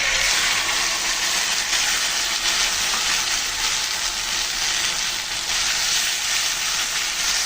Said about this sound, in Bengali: এখন আমি যে মশলাটা গুলিয়ে রেখেছিলাম সেটা দিয়ে দিচ্ছি